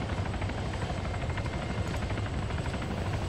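A helicopter sets down during a firefight extraction in the video game Arma 3, its rotor thumping in a fast, steady pulse over a dense, loud engine roar that holds constant throughout, with no voices over it.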